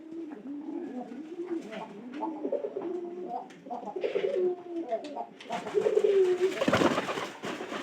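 Pigeons, some of them suffering from colds, coo in repeated soft rolling phrases close by, with a louder burst of mixed noise and fluttering near the end.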